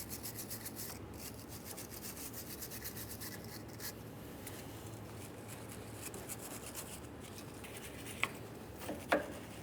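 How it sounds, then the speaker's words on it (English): Wire brush scrubbing debris off an inner tie rod sleeve on a 1994-2001 Dodge Ram 1500, a steady faint rasping rub throughout with a couple of sharp clicks near the end. "We're going to clean this with a wire brush and we'll use some penetrant."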